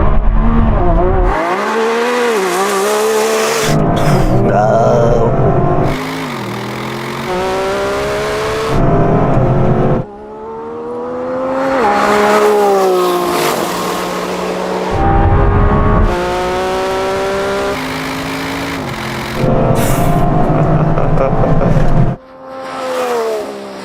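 A Lamborghini Revuelto and an Audi RS7 launch side by side down a wet road, engines revving hard through repeated rising gear pulls, loud and close, with sharp breaks at each shift and a final burst of acceleration.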